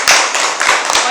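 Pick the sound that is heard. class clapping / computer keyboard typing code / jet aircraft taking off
class clapping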